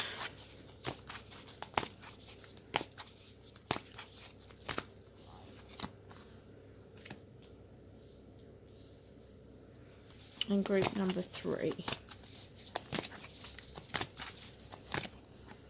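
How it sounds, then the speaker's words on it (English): Cards are shuffled with soft, irregular taps and riffles, close and quiet, while a person speaks briefly partway through. "The cards don't want to come out while I'm shuffling today"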